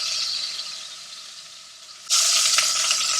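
Pork chops frying in hot oil, a steady close sizzle that jumps abruptly louder partway through as the oil splatters and crackles, continuing bright and busy to the end with no talk.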